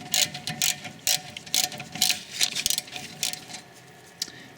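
A ratchet tool undoing a rear brake caliper bolt gives quick, close metallic clicks in uneven bursts. The bursts come in several runs with short pauses between them, and nobody talks.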